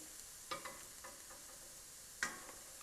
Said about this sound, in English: So we turn down the temperature and put a generous amount of Hungarian paprika in it